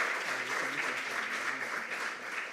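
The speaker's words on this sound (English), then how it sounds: "A round of applause for him" Faint, steady applause from a school quiz competition audience for a junior high student who answered correctly, lasting a few seconds with no talk over it.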